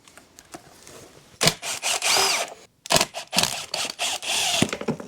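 A power driver spins out 5mm bolts on a Honda CRF250L dirt bike during a service, in several loud close whirring bursts separated by brief pauses and clicks.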